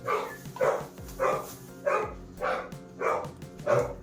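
A dog barks about six times in a steady rhythm, each loud bark evenly spaced, close by with no talking.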